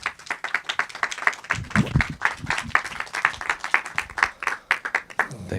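Audience at a documentary festival Q&A clapping for the film's two directors, lively uneven handclaps from a modest crowd, near and distinct, with a low voice briefly surfacing partway through.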